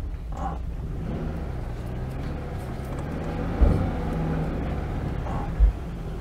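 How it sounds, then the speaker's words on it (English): An Oltcit car driving, a steady low engine drone and road rumble from inside the cabin, with a couple of brief thumps. "But yeah, I'm driving my Oltcit."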